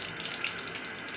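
Tap water runs steadily into a sink with a constant, close, full rushing splash and no pauses.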